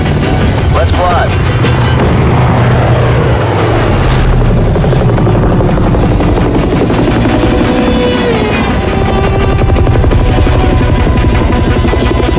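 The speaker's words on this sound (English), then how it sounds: "Cleared for taxi, Shadow" An aircraft's engines roar while it taxis during a mission in Call of Duty: Modern Warfare 3 (2023), a loud continuous rumbling drone under game radio chatter and voices.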